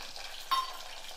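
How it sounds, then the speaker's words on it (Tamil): Onion frying in oil with fennel seeds and curry leaves for a vegetarian fish curry sizzles softly, with one brief louder hiss near the middle. "வெங்காயம் கொஞ்சம் நல்லா வதங்கட்டும், கலர் மாறி வர்ற வரைக்கும்."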